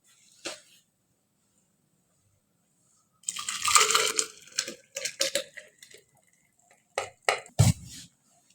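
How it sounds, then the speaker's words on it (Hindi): Just-boiled hot water is poured into a juicer-grinder machine, giving a short splashing, clattering rush mid-clip followed by a few sharp knocks and clinks, with quiet gaps between. "ये सारा पानी इसमें डाल दिया"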